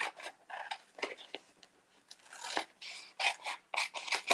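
Scissors snipping through a holiday heat-transfer design sheet, a close run of quick crisp cuts and rasping slides coming in uneven bursts, with no voices.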